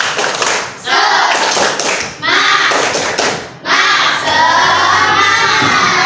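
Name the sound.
class doing the tepuk semangat clapping routine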